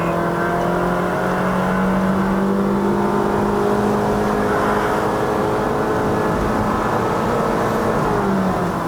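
A Honda Shuttle 1.5L i-VTEC engine drones loudly and steadily under full throttle on a Genting road, its pitch climbing slowly with no break and no talk.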